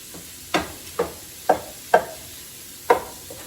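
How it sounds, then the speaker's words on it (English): A wooden spoon breaks up ground meat in a pan with five separate scraping knocks at uneven intervals, close and fairly clear, over a low background with no talking. "Make sure you break it up with a wooden spoon."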